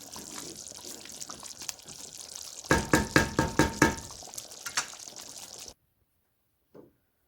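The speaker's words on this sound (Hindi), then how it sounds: "चम्मच चलाते रहें।" A spoon clacks repeatedly against a cooking pot while stirring chicken masala gravy for a boneless chicken badami handi, a quick series of sharp knocks over a steady sizzle before the sound cuts out.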